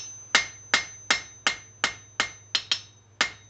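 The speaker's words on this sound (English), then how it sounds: "You can also use a rounding hammer to do a top and bottom fuller" A rounding hammer strikes hot metal on the horn of a blacksmith's anvil during tapering. Nine sharp, ringing blows land in a quick, steady rhythm, close and alone.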